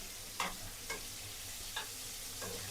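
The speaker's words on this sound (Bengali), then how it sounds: "এই জিরা ফোড়ন দিয়ে দিলাম" Cumin seeds tempering in hot oil for a Bengali fish curry, a steady soft sizzle with a few brief clinks of stirring, fairly quiet and close, with no talking.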